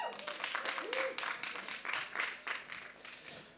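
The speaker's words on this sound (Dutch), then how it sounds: "Dames en heren, een groot applaus om te beginnen met Kate Donkor." A Dutch audience at a dictation event in Arnhem applauds with brisk, continuous clapping that carries on for a few seconds before easing off.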